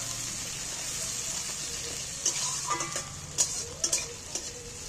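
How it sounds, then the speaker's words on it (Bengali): Chopped onions frying in a pan with a steady sizzle, broken by scraping stirs and a few clinking knocks from a spatula in the second half. "এবার পেঁয়াজগুলোকে আমি একটু ভালো করে ভেজে নিই।"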